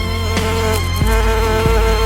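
Bees buzzing close by in an open field, a loud steady droning hum with pitch shifting slightly as insects move around.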